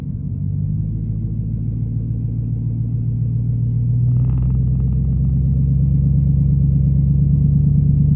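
Car wheels spin steadily on loose ground in a four-wheel-drive setting, a constant low engine rumble and whirring drone that grows slightly louder and rougher midway, with no voices over it.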